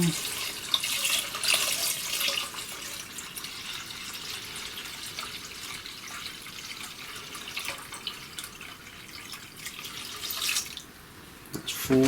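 Water pours steadily into a jug for a California Connoisseur Merlot wine kit, a continuous close splashing rush that barely wavers and dips briefly just before the end.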